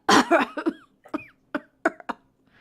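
A short series of coughs, a heavy burst first and then several sharper, spaced hacks fading out, close to the listener.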